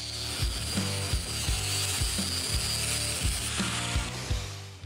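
A steady, rhythmic grinding scrape repeating about once a second, a 4.5-inch disc wearing down excess metal on a Cadillac hearse build, loud and continuous with no voices.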